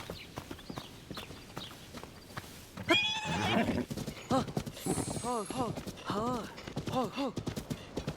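In Zelda: Tears of the Kingdom, a horse gives a loud whinny after light clip-clopping hooves, and a person talks over the sounds that follow.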